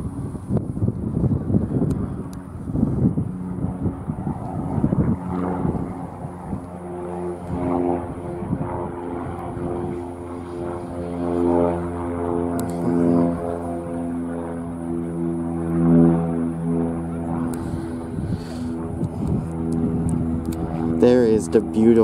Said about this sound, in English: There's one plane already,